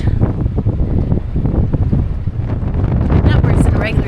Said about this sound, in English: You can even hear the gust.